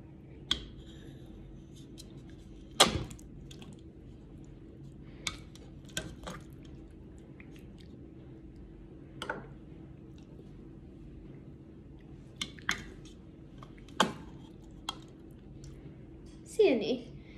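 A small bowl and spoon are taken out and homemade Jell-O is scooped, giving scattered soft clinks, taps and wet squishes separated by quiet pauses, close and faint.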